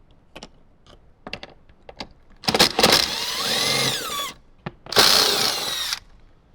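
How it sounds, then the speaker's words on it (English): A power driver whirs in two bursts, about a second and a half each, backing out two 10mm bolts from the A-pillar of a 2025 Toyota 4Runner, preceded by scattered clicks and taps, close with no talking. "let's get those two 10mm bolts out"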